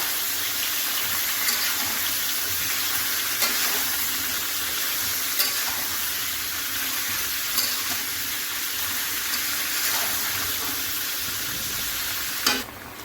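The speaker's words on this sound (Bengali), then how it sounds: "এবার ভালোভাবে আলুটাকে ভেজে নিতে হবে, একটু লালচে করে আলুটা ভেজে নিতে হবে।" Potato pieces deep-frying in oil for a vegetarian aloo dum: a loud, steady, close sizzle and crackle running throughout, with a few sharp taps of a spatula against the pan and no voices.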